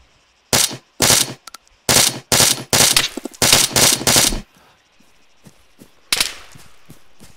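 Automatic gunfire from a weapon in the video game Arma 3 rings out in about seven loud, sharp bursts of rapid shots, followed by a quieter gap and one more short burst near the end.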